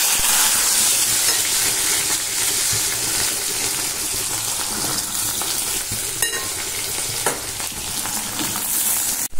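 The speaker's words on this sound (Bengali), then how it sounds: "গাঠি কচুটা একটু নুন দিয়ে ভাজা ভাজা করে নিই" Gathi kochu taro with salt fries in a pan with a steady, loud, close sizzle that runs throughout, broken by a few brief stirring clatters.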